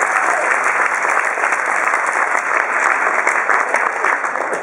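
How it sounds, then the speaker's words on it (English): A seminar audience gives a volunteer a sustained round of loud, close applause, steady and even throughout with no break. "Round of applause for this man, bring him up."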